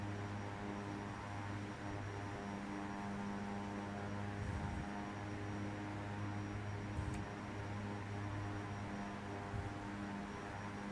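A simulated Embraer 110 twin-turboprop in the X-Plane 10 flight simulator, a steady droning engine hum with layered tonal whine that holds constant throughout, with no talk over it.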